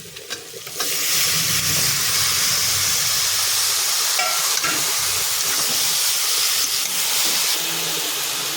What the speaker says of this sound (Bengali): মশলাটা কষানো হয়ে গেছে। এবার আমি চিকেন স্কিনটা দিয়ে দিচ্ছি